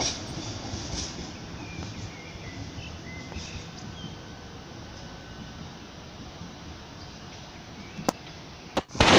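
A Baureihe 628 diesel railcar pulls out from platform 7 at Ulm Hauptbahnhof, its low engine rumble and rolling noise steady under station ambience, with a couple of sharp clanks near the end.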